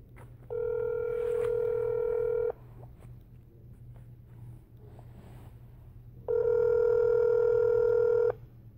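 Two long, steady telephone tones sound a few seconds apart, each lasting about two seconds, over a faint low background hum.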